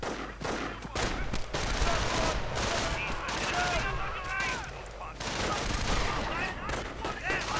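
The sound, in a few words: sniper and gunfire in a WWII strategy video game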